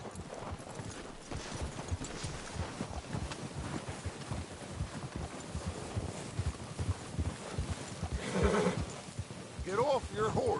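Horses in the video game Red Dead Redemption 2 clip-clop steadily at a walk through wind, with a whinny near the end and voices speaking over the hoofbeats.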